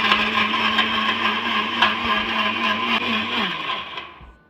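A mixie grinder blends tamarind for rasam, a loud, steady whirring motor grind running for about four seconds before spinning down at the end, with no talking.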